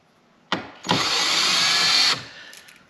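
A power drill tightens bolts on a C7 Corvette during a carbon fiber wing install. A short blip comes first, then one steady, high whir lasts over a second before it stops, close up and loud.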